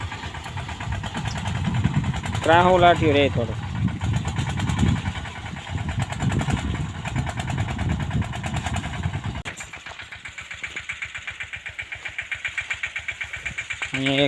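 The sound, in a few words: mini tractor engine running in wheat field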